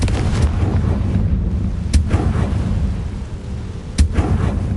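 The Confringo blasting spell goes off in a PS4 video game as two heavy, booming explosions about two seconds apart over a low rumbling background, with no voices.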